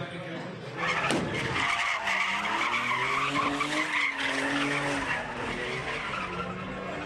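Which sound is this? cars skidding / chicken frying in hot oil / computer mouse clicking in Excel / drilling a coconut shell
cars skidding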